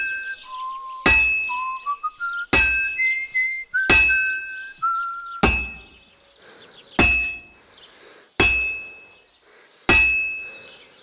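Smith whistling a short tune while hammering a sword on an anvil in Kingdom Come Deliverance 2, bright whistled notes between the first few strikes, then seven evenly spaced ringing anvil clangs continuing alone.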